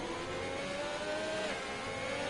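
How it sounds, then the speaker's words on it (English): Ferrari race car engine in a realistic classic-car racing game at the Brazilian GP, lacking power: a steady, close, loud engine whine climbs in pitch, drops briefly at a gear change, then rises again. "That Ferrari engine really struggles for power, I'll tell you that much"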